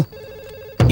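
A single short electronic phone ring tone, clear and fairly near, followed by a sudden louder burst at the end.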